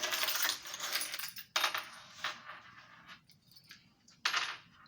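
Keys jangle in bright metallic bursts near the mic, several clinking shakes and handlings separated by brief pauses, fairly quiet, with no talking.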